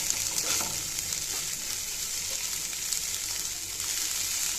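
Leftover cooked rice from the night before stir-fried in a pan, giving a steady broadband sizzle with faint scraping stirs throughout, fairly close and with no talking.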